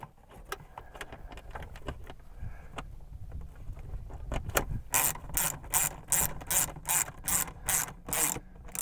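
Close ratcheting clicks from a socket wrench snugging bolts during a dash cam install in a Ram 3500, with scattered rubs early and a rapid run of sharp repeated clicks in the second half.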